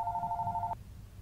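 A telephone rings inside a video game, one steady electronic bell tone held for under a second before cutting off abruptly, clear over a low background hum.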